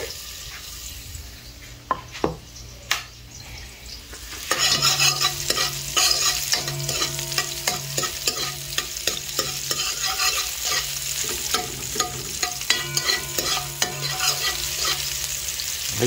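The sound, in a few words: onions frying in a pot for chicken curry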